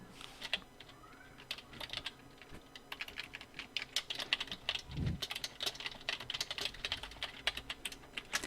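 Fingers type text on a computer keyboard while working in Photoshop, producing rapid, close clicking keystrokes in irregular bursts with brief pauses and a soft thump partway through.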